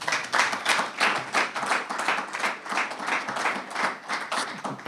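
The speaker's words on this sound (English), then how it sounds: "Can we have a round of applause for Dr. Crosby?" Audience at an aquarium milestone event breaks into steady applause, many hands clapping in a dense, rhythmic patter that rises and falls with no talking over it.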